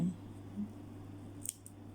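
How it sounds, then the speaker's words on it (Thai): Scissors snip through sewing thread while a crocheted three-layer phone bag is being finished, a single brief close cut standing out from a quiet room with a low steady hum. "เราก็จะ ตัดไหม"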